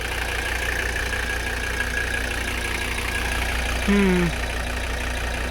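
A long-abandoned Mercedes 300CD diesel engine idles at a steady, close, droning rumble, with a brief voice-like tone rising over it near the end.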